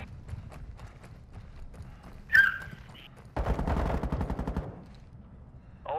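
Gunfire in the video game Call of Duty DMZ comes as a short, dense burst of automatic rapid shots at moderate loudness, preceded by a brief sharp electronic blip and faint clattering steps.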